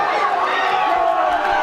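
A darts crowd at the 2020 BDO World Professional Championship murmurs and reacts after a missed double, a steady roar of chatter beneath a commentator's voice.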